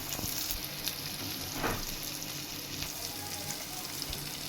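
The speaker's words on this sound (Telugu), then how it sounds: "ఇప్పుడు ఈ రెండింటిని కూడా కొంచెం ఫ్రై చేసుకున్నాం" Curry leaves and chopped coriander frying with softened tomatoes in a pan for tomato bath upma, a constant close sizzle with occasional stirring scrapes and faint pops, no voices.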